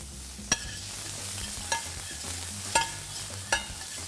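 Ginger, garlic and onions frying in a somewhat dry pan, a low continuous sizzle punctuated by four sharp clicks of a utensil against the pan at roughly one-second intervals, nobody speaking.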